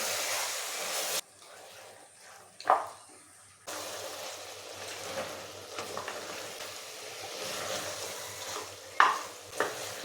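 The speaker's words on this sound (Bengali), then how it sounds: "আর মটনটাও খুব ভালো করে কষিয়ে নেব।" Mutton is stirred and fried in a pan for mutton kosa, an uneven sizzle that drops out and returns, broken by sharp scraping clatters of a spoon against the pan.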